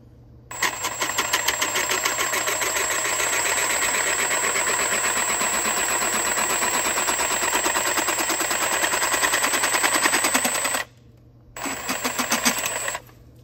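A power saw, likely a jigsaw, cuts a bracket-sized section out of wood with a loud, steady buzzing rattle for about ten seconds. It stops briefly, then resumes for a short final burst.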